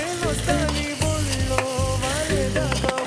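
Tomatoes fry in a pan for a brinjal-tomato chutney, a close crackling sizzle with steady stirring scrapes over a few seconds, no talking.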